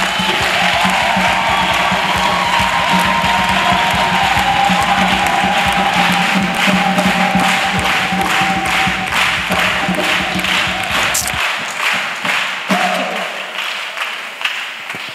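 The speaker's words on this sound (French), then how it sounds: "Offrant d'acclamation à Jésus de Nazareth." A church congregation at the 26th UMPJ gathering in Côte d'Ivoire claps rhythmically and cheers loudly for several seconds, and the crowd noise thins out toward the end.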